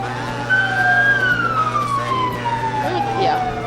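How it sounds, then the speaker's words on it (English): A loud wailing siren sweeps down in pitch over a low engine drone, close by, as sheriff's deputy cars pass in a Christmas parade. "with the sirens going, sometimes it gets loud."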